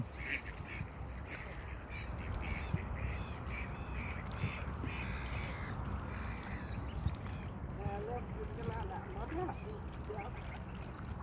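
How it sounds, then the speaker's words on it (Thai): Ducks and geese call in a busy flock outdoors in Iceland, honks and quacks scattered over a steady wash of background noise, with occasional voices nearby. "ฝูงห่านอยู่ทางนี้นะฮะ"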